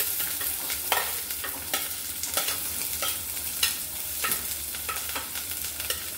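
Chopped onion fries over medium heat in a pan after ginger, giving a soft continuous sizzle broken by regular scrapes and clinks of a spoon stirring, close and fairly quiet, with no talking.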